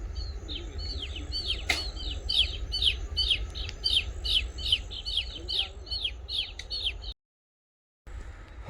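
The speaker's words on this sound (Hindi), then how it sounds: "छोटे छोटे पक्षी है, देखिए।" Small birds chirp in quick repeated bursts across farm fields, a steady run of bright tweets over low rumbling background noise, with a brief gap of silence near the end.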